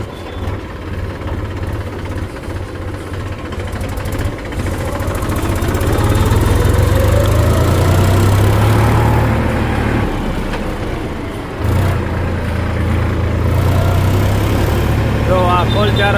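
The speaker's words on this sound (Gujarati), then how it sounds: "હવે ટ્રેક્ટર ચાલુ કરી અને હવે નીકળી ગયા છીએ" A tractor engine runs steadily as it pulls out onto a road, a low rumbling drone that swells louder midway, dips briefly, then carries on under occasional talk.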